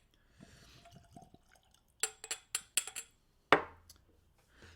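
Whisky from a big Islay bottle is poured into tasting glasses, heard as a run of sharp, close glassy clinks and splashy pours in quick succession, followed by one louder ringing knock that decays away, with soft movement noises before it.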